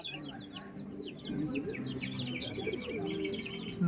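Pigeons in a home flock coo in a steady low layer, with brief higher chirps scattered on top and the sound growing a little fuller partway through.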